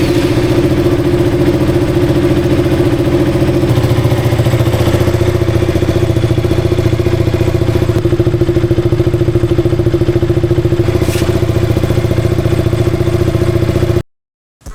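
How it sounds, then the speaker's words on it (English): A 2015 KTM RC 200 motorcycle with a K&N air filter idles loud and close with a steady thrumming beat for about fourteen seconds, then cuts out abruptly into silence. "let's start the bike and see how it sounds."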